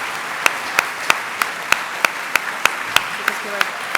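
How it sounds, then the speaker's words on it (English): Applause at the UWC Atlantic leavers ceremony for the class of 2019: steady, evenly spaced claps land about three times a second over a soft background hum of the hall, with no voices on top. "can we have one final round of applause to Peter, who has worked so hard during this"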